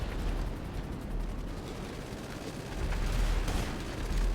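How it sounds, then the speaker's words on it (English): Dense, continuous rumbling blasts and gunfire from explosions in GTA Online during jet warfare, loud and overlapping, with low booms surging throughout and no voices. "So many explosions."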